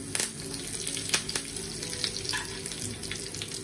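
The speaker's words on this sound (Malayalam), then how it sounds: "കുറച്ച് കറിവേപ്പിലയും കൂടി ഞാൻ ആഡ് ചെയ്യുന്നുണ്ട്" Curry leaves sizzle and crackle in hot oil after mustard seeds and dried red chillies for a rasam tempering, a steady loud frying hiss broken by a few sharp pops, with no voice.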